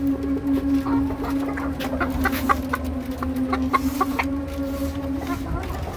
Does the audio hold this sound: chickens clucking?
yes